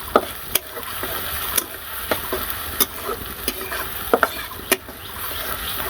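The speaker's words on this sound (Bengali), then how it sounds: "নাড়াচাড়া করে দেওয়া লাগবে" Rice frying with turmeric in an oiled pan, stirred with a spoon, giving a steady close sizzle broken by sharp scraping taps of the utensil against the pan at irregular intervals.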